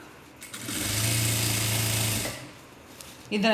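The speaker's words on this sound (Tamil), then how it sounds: "நான் இன்னொரு தையலும் போட்டுக்கிறேன்" A sewing machine runs a short burst of fast, even stitching on a blouse's puff sleeve, loud and close, then stops as a voice begins.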